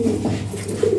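Pigeons coo softly and steadily, a low rounded burbling that repeats throughout at close range in a loft or delivery setting, with no one speaking.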